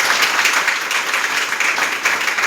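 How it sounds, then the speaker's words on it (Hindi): Loud, dense applause from an audience at a Hindi motivational speech, sustained clapping close by for the whole stretch. "मैंने बोला सहमत है तो जोरदार तालियां होनी चाहिए।"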